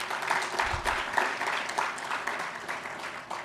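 A conference audience applauds a sponsor, a dense patter of many hands clapping at moderate distance for a few seconds.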